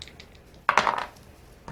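Plastic defense dice clatter briefly onto the table during a HeroQuest board game, a single short rattle between quiet moments.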